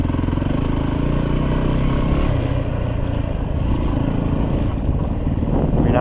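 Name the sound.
motorcycle engine downshifting on a trail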